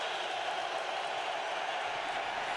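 A dense, steady roar of a packed stadium crowd cheering at an NFL football game between the Patriots and Chargers, loud and continuous wall of noise with no breaks.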